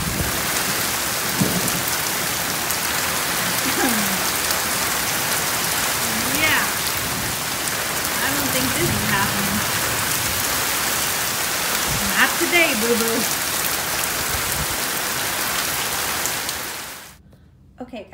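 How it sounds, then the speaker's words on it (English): Heavy rain pours steadily through a Florida thunderstorm, a dense, continuous roar of water on surfaces with occasional faint voices underneath, before cutting off abruptly near the end. "it started pouring rain"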